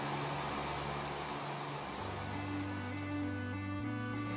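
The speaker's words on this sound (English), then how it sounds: "you'll hear the whir of the compressors." Steady whir of air conditioner compressors, a continuous mechanical drone with a low hum that shifts pitch slightly partway through, even and unbroken with no talking.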